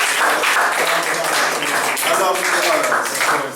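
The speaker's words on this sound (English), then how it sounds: "Please give them a round of applause." Audience applause at a ceremony acknowledging guests and trainers, loud close clapping with steady texture that tapers at the end, with some voices mixed in.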